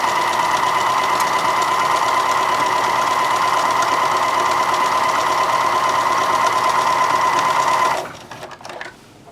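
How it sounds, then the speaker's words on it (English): A sewing machine stitches a curved seam just under half an inch along the top of a purse's back pocket lining, running in a loud, steady continuous whir for about eight seconds before stopping abruptly, leaving faint handling noise. "So I'm gonna sew less than 1/2 inch, following the curve of the top of the back lining."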